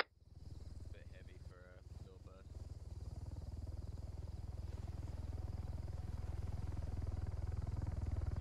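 A military helicopter in a video game drones faintly at first and then swells steadily as it approaches, a low rhythmic rotor thrum under brief radio-like chatter early on.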